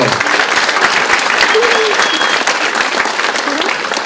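Loud, dense applause fills a Jewish school hall as students applaud a speaker, continuous and evenly sustained throughout with a murmur of crowd underneath.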